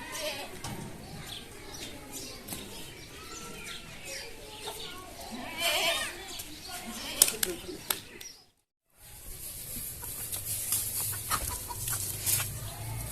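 Hens cluck and a rooster calls amid farmyard noise, with a sheep bleating nearby and people talking in the background; a short silent gap interrupts midway.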